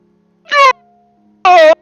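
A tabletop Dungeons & Dragons player voices a loud, scared, cat-like yowl, imitating the creature's cry: two short, piercing, tonal yells separated by a brief silence, close to the microphone.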